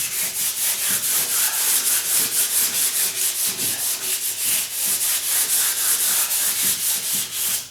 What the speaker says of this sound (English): I'm only slightly sanding it because I already have a coat of new paint on here